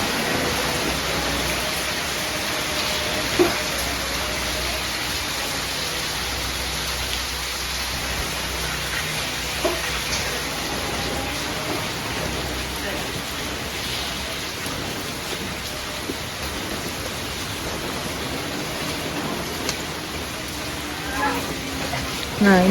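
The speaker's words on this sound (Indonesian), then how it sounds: "Suara hujan guys." Steady rain falls on an open-air livestock pen at a farm, a dense even hiss with occasional louder drops and faint rumbles, continuous throughout with no voices.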